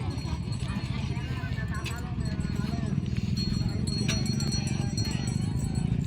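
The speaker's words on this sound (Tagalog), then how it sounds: "Gandang kalabaw, batang bata pa." Young water buffalo racing, their hooves clattering in a rapid rhythmic beat under loud crowd noise and commentary at a rural buffalo race.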